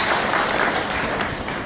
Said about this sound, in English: shall we give a round of applause to mark this very important occasion